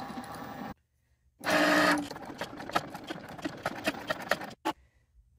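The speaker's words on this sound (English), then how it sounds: "I'm going to press that again, and I'm going to let Cricut recut this." Cricut Explore Air 2 cutting machine recutting die-cut stickers, a loud steady whir at first, then a run of rapid clicking and ticking carriage movements that stop abruptly, with a brief final burst.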